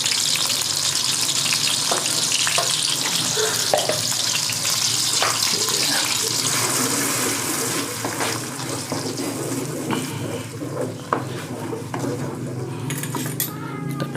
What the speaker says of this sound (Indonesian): Kita tumis dulu bumbu halusnya ya.